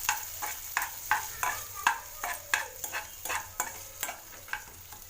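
Urad dal and peas sauté in a pan, a spoon scraping and stirring in a quick repeated rhythm over a soft sizzle, close and alone.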